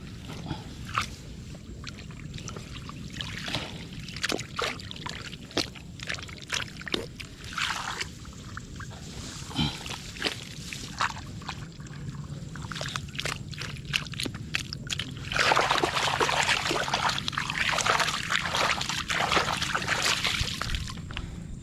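Water is poured into a container outdoors, with intermittent splashes and trickles for a while before a louder, sustained gushing pour takes over near the end.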